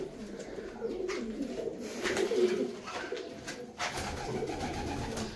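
Domestic pigeons on a breeding farm cooing nearby, soft repeated throaty coos rising and falling over a rustling background, with faint chirps mixed in and no speech.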